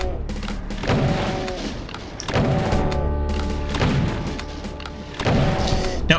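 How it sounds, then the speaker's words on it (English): Shotgun fire in a Doom-style game level: four or five heavy, booming blasts spaced roughly a second apart, loud and close over a droning music bed. "the shotgun"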